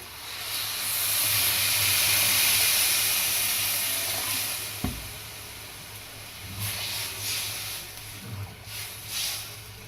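Water poured into hot basmati rice in a pot sizzles and hisses loudly, a strong steamy rush that swells over a few seconds and then fades into softer bubbling crackles and small clinks.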